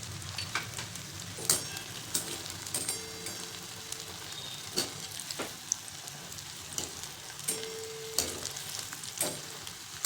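Sabudana vadas fry in hot oil, giving a crackling sizzle with scattered sharp pops and bursts throughout, close and fairly loud, with no speech.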